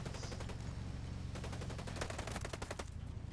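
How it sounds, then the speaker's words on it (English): Automatic gunfire in Ghost Recon Breakpoint, rapid bursts of shots over a constant rumbling background that turn denser and more distinct in the second half, moderately loud, with no talk. "we're getting shot at"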